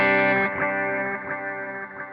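Electric guitar through a halo delay patch on a Line 6 or Fractal modeling unit, a struck chord blooming into shimmering, echoing repeats that slowly fade, worship-style ambient tone.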